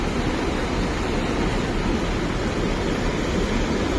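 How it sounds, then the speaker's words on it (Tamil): Water overflowing from an opened dam makes a steady, dense, broadband roar and rush. It is heard alone, with no talk. "அதனால் வந்து தண்ணி ஓவர்ஃப்ளோ ஆகிட்டு இருக்கு."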